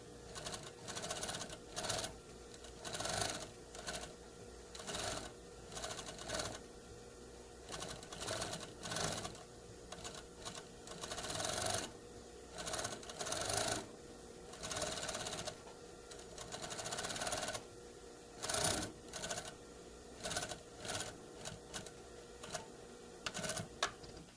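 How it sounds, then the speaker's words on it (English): Sewing machine stitching tape onto a garment collar, running in short rapid bursts of rhythmic needle clatter with brief pauses between runs, fairly quiet and with no talking. "We stitch very close to the edge of the tape."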